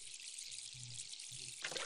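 Gurgling water from a waterskin being drunk in the game Stonekeep, a faint short trickle and splash, quiet and alone with a slightly brighter burst at the end.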